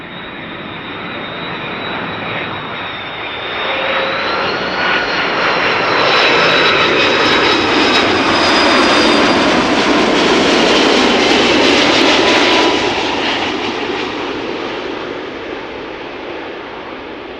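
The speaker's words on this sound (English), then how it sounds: "EasyJet A319 coming in" An EasyJet Airbus A319 on landing approach at Amsterdam Schiphol swells into a loud jet roar with a whining engine tone, peaking mid-pass overhead, then fading as it moves away.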